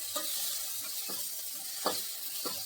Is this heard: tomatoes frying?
yes